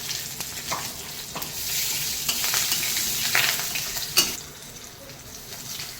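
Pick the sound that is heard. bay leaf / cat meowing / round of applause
bay leaf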